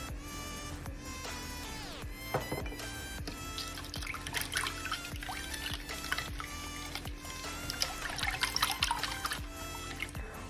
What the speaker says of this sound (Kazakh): Оның үстінен сұйық майымызды құйып, тағы да бір рет жақсылап араластырамыз.